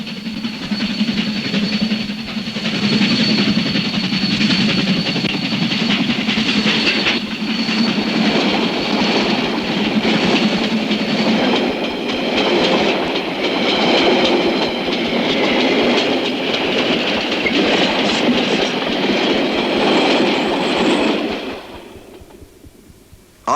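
A heavy locomotive hauling a train in Train Simulator on a recreated single-line mountain route, a steady loud engine drone with rhythmic wheel clatter and tonal whine lasting about twenty seconds before quickly fading away.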